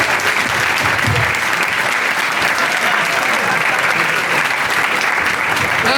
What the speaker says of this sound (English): we have a huge round of applause for Wilson Milton!